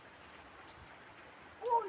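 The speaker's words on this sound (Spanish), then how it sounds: "me voy a bañar en la lluvia mismo" Steady rain falls outdoors in a soft, constant hiss, and a short vocal sound rises over it just before the end.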